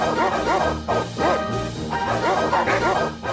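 A dog barking and yipping in quick repeated bursts, close and loud, with whimpering tones between barks and no other sounds over it.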